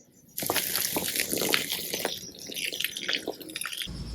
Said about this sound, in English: I'm going to fill this hole up with a little bit of water and we'll let it soak in.